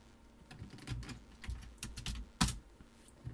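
Text being typed on a computer keyboard during Photoshop work: irregular, close key taps with one sharper, louder strike, no voices.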